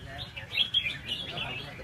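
Red-whiskered bulbul singing at a songbird contest in Nha Trang, a string of bright, quick chirps and whistles from a nearby caged bird over low crowd murmur and voices.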